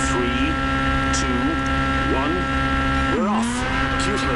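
WRC rally car launching off the start on gravel in Portugal, engine loud and close, revving up through a series of quick gear changes with rising and dropping pitch, a steady roar throughout.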